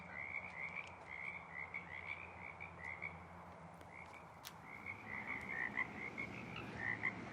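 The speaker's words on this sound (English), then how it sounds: "That's a lot of frogs, Sue says." Frogs near a busy road intersection call in a thick chorus, with rapid pulsing trills rising and falling in waves over a constant low traffic drone.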